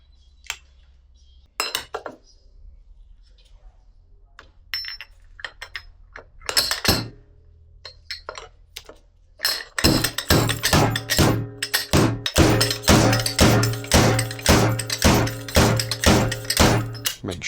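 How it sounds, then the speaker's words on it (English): A fork bushing is hammered into a Honda CBR1000RR Fireblade front fork. Scattered metallic taps and clinks build into a fast, steady run of loud, ringing strikes, close up and with no talking. "you've got to drive the bushing into place"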